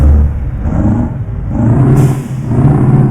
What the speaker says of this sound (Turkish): Scania'nın sese bak